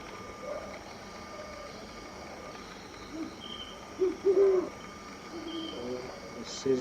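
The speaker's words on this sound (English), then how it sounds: "This is a brown wood owl." Two brown wood owls call back and forth in a series of low, short hoots, distant and fairly faint over a steady background hum and hiss.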